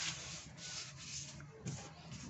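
A hand rubbing over dried body filler on a car bumper, a faint dry scuffing in a few slow strokes, close and quiet with no talking.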